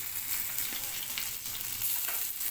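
Garlic and ginger hitting hot oil with heated whole spices in a Koli-style kitchen, a loud continuous crackling sizzle with bursts of spatter, close up and without speech.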